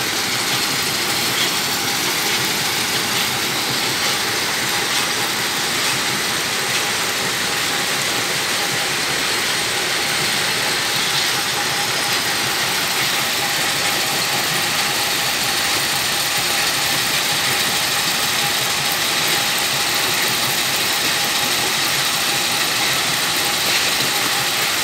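A stone crushing machine runs at a rock-breaking mill near the Tamabil border area in Sylhet, giving off a steady, loud, continuous mechanical roar with grinding and rattling that never lets up, and no voices.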